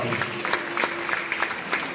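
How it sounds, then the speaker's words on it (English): A round of applause from a gathered crowd, close and moderate, with sharp individual claps standing out over the steady patter and a faint murmur of voices. "Give him a big round of applause."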